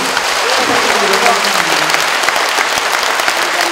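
Loud, close applause fills the room at a book launch honoring a minister, steady and dense, with voices murmuring underneath.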